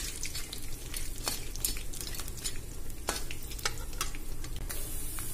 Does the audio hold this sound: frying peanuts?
yes